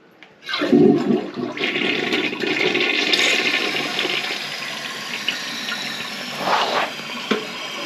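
A weak-flushing toilet gives a loud rushing flush that settles into steady running water and tank refilling, with a brief gurgle near the end and no talking.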